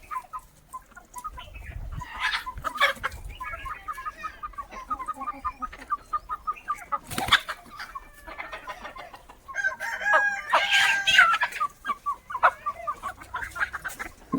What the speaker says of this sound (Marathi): दादागिरी करतो हा कोंबडा.